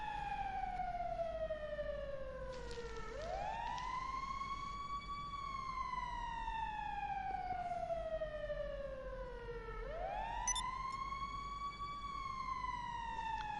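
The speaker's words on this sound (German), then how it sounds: "Ich kann mal etwa die Kack-Sirene ausmachen." A police siren wails in GTA 5, two slow rising-and-falling sweeps that are loud and close, over a low steady engine rumble.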